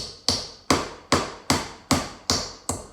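A hammer taps nails into a string art board in eight even, sharp, close strikes about every half second, with no talk.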